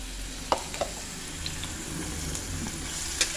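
A paste of beetroot, cauliflower leaves, onion, garlic and green chilli with salt and turmeric fries in a pan with a steady low sizzle, broken by a few sharp stirring clicks and taps.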